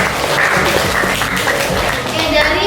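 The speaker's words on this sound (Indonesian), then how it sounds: "Sekali lagi kita tepuk tangan buat kita semua." A classroom audience, teacher and students, claps after group presentations of experiment results, a short burst of mixed applause with voices and a child's chatter mixed in.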